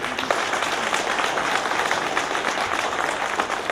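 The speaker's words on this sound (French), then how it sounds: "il faut applaudir Daouda Diabaté" An audience at a conference applauds steadily, dense clapping throughout at a moderate distance with no pauses.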